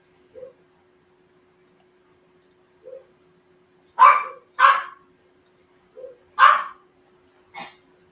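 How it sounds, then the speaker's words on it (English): Dog barking in the background behind a live movie review stream, with several separate barks and yips spaced across the clip and quiet gaps between them, no talk present. "that doggy's going off on something"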